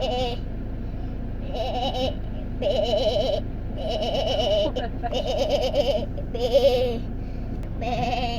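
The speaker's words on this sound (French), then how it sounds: "un bébé chèvre" Goats, including a baby goat, bleat in repeated short wavering calls along a road in Croatia or Montenegro, close and clear, with people talking softly in the background.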